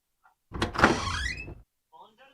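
A single door in the visual novel game Piofiore slides open with a smooth mechanical whoosh lasting about a second, followed by faint short sounds afterward.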